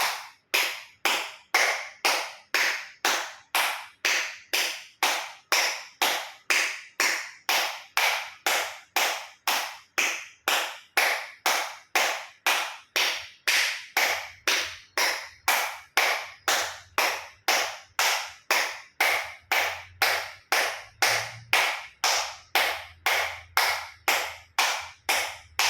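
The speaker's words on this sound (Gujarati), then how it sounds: "એક્યુપ્રેશર તાળી પૂરેપૂરા પંચાંગળીઓ બધું ટચ થાય એ રીતે 50 વખત જોર જોરથી તાળી" Acupressure clapping with all five fingers of each hand meeting, done as a yoga health exercise: a long, steady run of around fifty loud, evenly spaced claps, close and alone, with a faint low hum entering in the second half.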